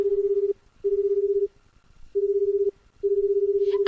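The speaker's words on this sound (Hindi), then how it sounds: "अच्छा, तुम नहीं मानती तो लगा देता हूँ फोन।" Telephone being dialed, four steady keypad tones of uneven length with short gaps between them, clear and close in a quiet room.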